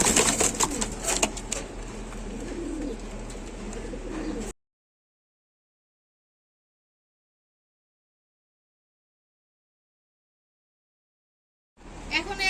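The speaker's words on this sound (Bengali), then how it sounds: "জোড়া ঘুঘু দেখতে পাচ্ছেন অস্ট্রেলিয়ান ঘুঘু রানিং পেয়ার" Australian doves, a breeding pair in a cage, coo with faint bird calls over a steady background hum for a few seconds, then the sound drops out entirely before returning briefly at the end.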